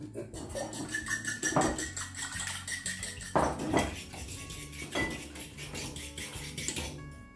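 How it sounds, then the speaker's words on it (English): A spoon clatters and scrapes against a bowl while herbs, cumin seed and other ingredients are mixed together, a close run of irregular metallic clinks and taps at moderate volume with no talk. "Now I'm gonna mix this all."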